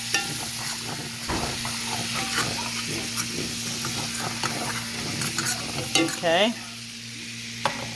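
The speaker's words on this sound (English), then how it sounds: "And that lemon juice is gonna loosen up the bottom of your pan." Chicken and Brussels sprouts sizzle in a hot pan after lemon juice goes in, with steady frying hiss, scraping stirs and a short spoken word near the end.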